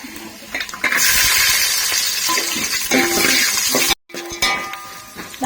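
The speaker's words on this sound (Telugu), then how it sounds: "బాదం పప్పు ఫస్ట్ ఫస్ట్గా ఫ్రై చేసుకోవాలి ఇప్పుడు జీడిపప్పు వేసేసుకోవాలి" Almonds and cashews fry in a pan for a sweet vermicelli dish, a bright steady sizzle with stirring scrapes and light metallic clinks, broken by a brief silence near the end.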